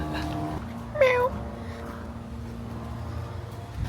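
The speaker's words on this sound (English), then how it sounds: "Cat vibes." A single short cat meow sounds near and clear over a low engine-like hum in the background.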